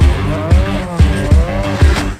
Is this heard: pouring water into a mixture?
no